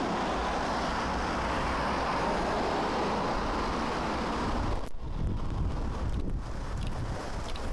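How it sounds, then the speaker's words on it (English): Mild outdoor wind blows around a large 3D-printed wind turbine as a continuous broadband rush and buffeting, with a short gust dropout near the middle before the blowing resumes. "After installing, there was some mild wind and the wind turbine already spins."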